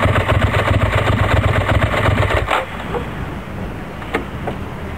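Ducati ST4 sport-touring motorcycle engine running with a steady, close throbbing rumble that suddenly drops to a quieter idle partway through.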